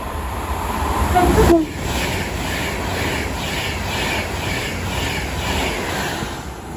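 An Avanti West Coast Class 390 Pendolino, unit 390.001, runs through Watford Junction on the West Coast Main Line, a sustained close rumble with rhythmic wheel beats after a brief louder burst at the start.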